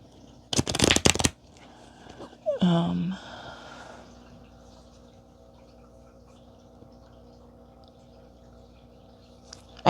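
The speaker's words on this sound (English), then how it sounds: "these cards don't want to shuffle right now" Playing cards riffled in a short, loud burst of rapid flutter near the start, followed by a second, rougher shuffle attempt, then quiet handling under low background hum.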